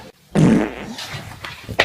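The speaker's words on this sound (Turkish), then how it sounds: "Osururum." A loud, close fart, a broad low rumbling burst lasting over a second with a fluttering tail and a short sharp squeak at the end, heard alone without talk.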